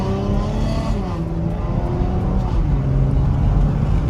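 A 2016 Dodge Charger with a 3.6L V6, dual exhaust and muffler delete accelerates hard, a loud, steady engine drone with rising harmonics running throughout with no talk over it.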